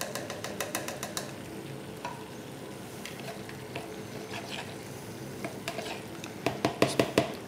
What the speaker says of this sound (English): Mix the couscous through with a fork, just to make sure it's all broken up.